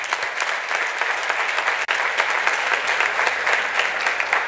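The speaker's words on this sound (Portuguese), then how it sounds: "Aplauda o Senhor Jesus." A church congregation applauds during a Portuguese-language Bible hermeneutics sermon, producing continuous, full-bodied clapping from many hands that stays loud and even, broken only by one brief sharp dropout midway.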